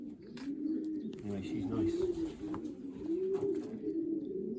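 A late-bred racing pigeon hen coos in soft, repeated rolling phrases close by, with other pigeons cooing around her in a loft while a person talks over them.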